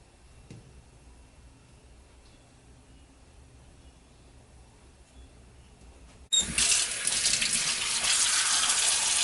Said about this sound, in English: With cold running water, I'm going to clean the shrimps.